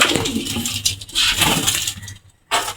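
Pigeons kept in a basket at a small farm coo in low, rounded calls that come and go, close by, with a brief pause near the end before cooing resumes.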